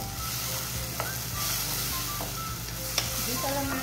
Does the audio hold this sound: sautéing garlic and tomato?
yes